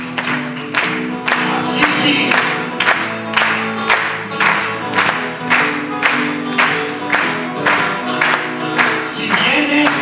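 A theatre audience in Oricios, Villaviciosa, claps in unison, keeping a steady beat of about two claps per second over live music and singing, with a brief spoken remark.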